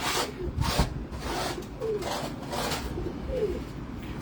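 Pigeons in a home loft give soft, low cooing murmurs with two brief rising coos, over a steady rustle of wings and shuffling close by; no one speaks.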